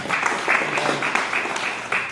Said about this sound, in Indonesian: Tepuk tangan yang beri untuk kami